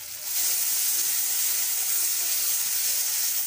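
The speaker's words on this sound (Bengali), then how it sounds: "আমি কষতে কষতে একটুখানি জল দিয়ে দেবো, জল দিয়ে কষবো মশলাটা যাতে না পুড়ে যায়।" Water splashed into a pan of spice masala being fried for a vegetarian chhana dalna, a continuous loud sizzling hiss from start to finish.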